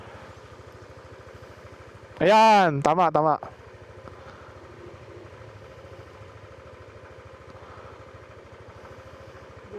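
A motorcycle engine idles steadily at the Lumot Lake campsite in Cavinti, Laguna, with a low, even throb throughout, while someone speaks briefly and loudly over it.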